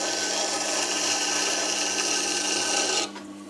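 Wet grinding stone on a 250 mm variable-speed universal tool grinder sharpening a badly ground chisel, a steady close continuous rasping grind that drops off abruptly near the end.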